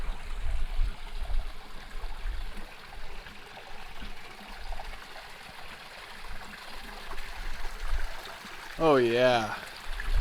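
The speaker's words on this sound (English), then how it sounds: "I'm in the process of filling up water. Over here though, it's coming right out of the ground." Spring water trickles out of the canyon rock among hanging gardens in Paria Canyon, a soft, steady burble close by, with someone briefly speaking over it.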